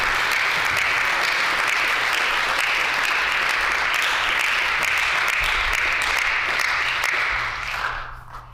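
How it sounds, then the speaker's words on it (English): Sustained applause in the House chamber for the pages, a dense steady wash of many hands clapping for about seven seconds before tapering off quickly. "I wonder if at this time we could have another round of applause for our pages."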